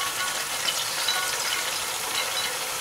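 Ground tomato hits hot masala in a pan on a high flame, giving a dense, even, loud hiss of sizzling that lasts throughout, with no voices.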